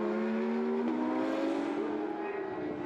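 Race cars on a wet circuit during a 24-hour endurance race at Zolder, one car overtaking another; a steady loud engine drone with rising pitch as one passes.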